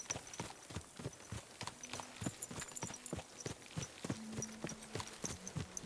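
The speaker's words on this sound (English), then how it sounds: "My, what a beautiful horse." Horse hooves clip-clop steadily at a walking pace in the medieval game Kingdom Come Deliverance 2, close and distinct, with a faint low tone underneath and no talking.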